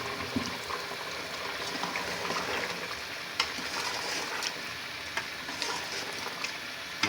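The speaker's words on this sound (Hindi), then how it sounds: "और अच्छी तरह भून लेंगे।" Tender meat (gosht) being fried and stirred in a pan with a little water, a continuous close sizzle and bubbling with occasional scraping clicks of the spoon, no speech.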